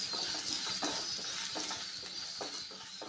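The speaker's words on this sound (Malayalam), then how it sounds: "ചൂടായ പാനിലേക്ക് ഓയിൽ ഒഴിച്ചു കൊടുത്ത് ഒരു വലിയ സവാള കട്ട് ചെയ്തതും കൂടെ ഇട്ട് കൊടുക്കാം സവാള ഇളക്കി കൊടുത്ത് നന്നായി ഒന്ന് വാട്ടിയെടുക്കാം" Sliced onion sautés in a hot oiled pan, giving a soft, steady sizzle broken by repeated scraping stirs at a regular rhythm, close and fairly quiet.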